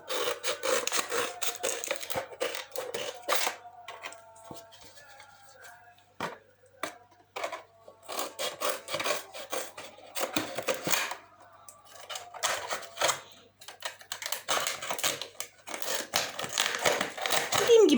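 Dull scissors snip and crunch through a plastic fabric softener bottle in repeated close cutting strokes and scraping rasps, broken by short pauses, with no speech.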